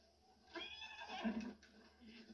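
A horse neighs in a Zelda video game, a short, fairly quiet whinny with a rising and falling pitch that fades out after about a second.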